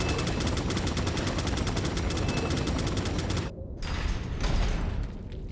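Rapid, continuous machine gun fire from Resident Evil 4 (2005), a dense rattling stream of shots that holds steady, breaks off briefly, then resumes as scattered bursts.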